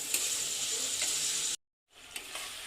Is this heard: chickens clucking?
no